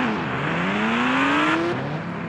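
A motorbike engine in a video game revs with a steady, rising synthetic whine that climbs in pitch for a second and a half, then drops and settles, loud and continuous with no talking.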